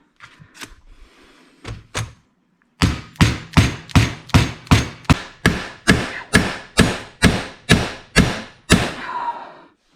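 Parts being hammered into a Cobra Daytona steering rack: a few scattered knocks, then a steady run of about fifteen loud, evenly spaced metallic hammer blows, close up and with no talk.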